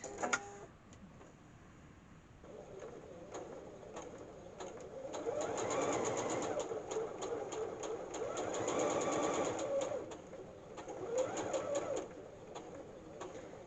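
A sewing machine stitching a fabric wrist pin cushion, running in bursts of rapid rattling stitches with short pauses between runs, moderately close and with no talking.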